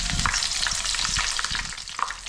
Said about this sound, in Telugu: కొంచెం కాయ నూనెలో వేగితే బాగుంటుంది